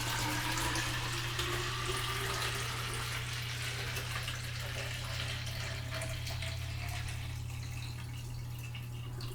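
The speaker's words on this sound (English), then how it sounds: "So I do have some hot water. So we're just going to fill this up to the line." Hot water pours into a container to fill it up to a line, a continuous rushing splash with a steady low hum underneath and no talk.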